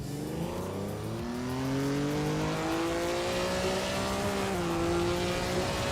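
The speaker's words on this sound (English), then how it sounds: "Equinox Dewo is driving a 1956 Jaguar D-Type, starting from the 5th position" A 1956 Jaguar D-Type race car engine in a racing video game, droning steadily with rising and shifting pitch as it accelerates through gears, loud and continuous with no talk.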